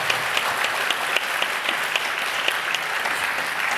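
An audience applauds steadily after a Bharatanatyam Arangetram dance performance, a dense, even patter of many hands clapping throughout, with no one speaking.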